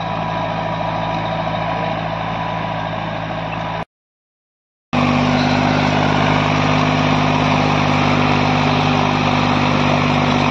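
A tractor straining as it pulls a heavy 9x9 harrow through a field, its engine droning loud and steady with a strong low hum, broken once by a sudden gap of about a second before the labouring resumes.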